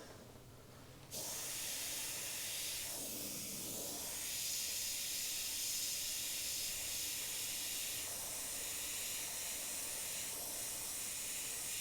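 An airbrush sprays black paint to create bullet-hole damage on a surface, a steady close hiss that starts abruptly and keeps going with slight swells in strength, with no talking.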